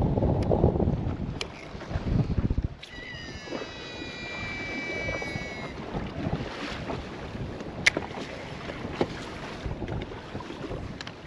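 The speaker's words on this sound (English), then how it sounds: "This wind's not dying down." Strong wind buffets a fishing boat out on the water on a windy day, a constant loud rumble across the microphone with brief whistling tones and scattered knocks from the boat, close and unbroken by talk.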